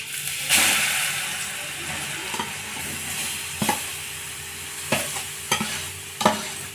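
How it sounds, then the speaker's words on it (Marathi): Grated carrots for carrot halwa sizzle and fry in a pan, with a low steady crackle broken by several sharp scraping stirs at close range. "आणि यामध्ये आता आपण गाजरही टाकून घेऊया"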